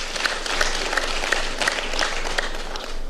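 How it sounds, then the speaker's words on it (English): Crowd clapping at a Kenyan election event, a dense, steady burst of applause from a large audience, loud and close throughout. "Let's give them a clap."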